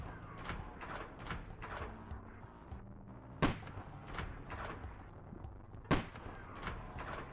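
Two sharp, loud shots from an AM sniper rifle in Cruelty Squad ring out about two and a half seconds apart over a steady bed of game ambience and softer rhythmic clatter.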